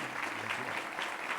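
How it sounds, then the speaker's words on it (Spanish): An audience at a conference session applauds to welcome a speaker, with brief, moderately loud, even clapping. "Un aplauso entonces para recibir al doctor Oscar Fay."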